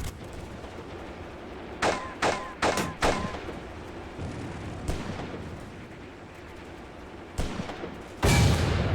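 Guns fire in a WWII tactics video game set at Kharkov in 1943, with a rapid cluster of sharp, loud reports, scattered single shots and a heavy blast near the end, all rumbling over a low battlefield background.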